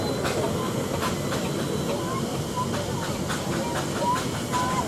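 Small steam road locomotive passing in a parade at the Netley Marsh Steam and Craft Show, a loud steady hiss and rumble with rhythmic clanking and faint squeals, with a voice talking over it.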